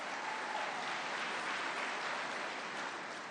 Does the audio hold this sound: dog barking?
no